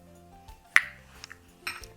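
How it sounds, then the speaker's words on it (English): An egg is cracked on the rim of a bowl: one sharp close knock, followed by small clicks and a softer second tap against the bowl, in a quiet kitchen with no talking. "I like to crack my egg into a bowl first"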